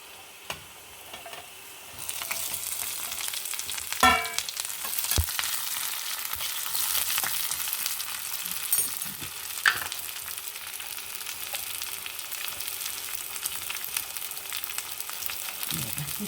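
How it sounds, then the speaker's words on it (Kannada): Green chili drops into hot coconut oil with mustard seeds and garlic, setting off a steady close sizzle that holds on after a few sharp pops and spoon clicks. "ಸಾಸಿವೆ ಹುಟ್ಟಿ ಆಯ್ತಲ್ಲ, ಈಗ ಇದಕ್ಕೆ ಹಸಿಮೆಣಸು ಹಾಕೊಂಬ"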